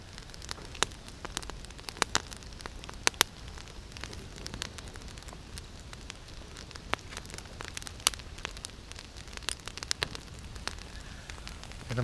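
A campfire crackles in the rain in a forest, with sharp irregular pops and snaps scattered over a soft steady hiss of falling rain, close by and with no talk.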